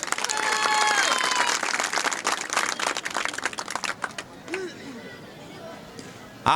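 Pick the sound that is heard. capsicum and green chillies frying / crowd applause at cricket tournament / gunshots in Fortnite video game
crowd applause at cricket tournament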